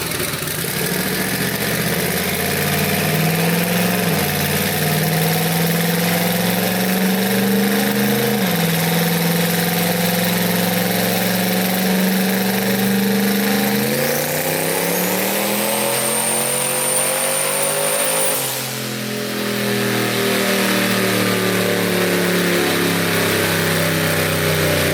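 Twin-turbo 5.3-litre V8 in a Mustang pulling on a dyno, a loud sustained engine roar that climbs steadily in pitch toward a high whistle before abruptly dropping back to a lower drone.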